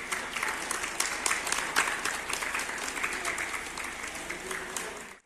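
Hospital staff at Bucak State Hospital applaud a discharged patient as she leaves: sustained, lively clapping from a group that stays even throughout and then cuts off at the end.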